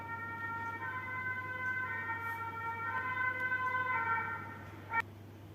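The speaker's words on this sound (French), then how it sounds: "c'était les pompiers qui passaient" A fire engine siren wails steadily from outside at an exhibition in Mons, its tone rising and falling at moderate distance over a constant low hum, with a brief sharp knock near the end.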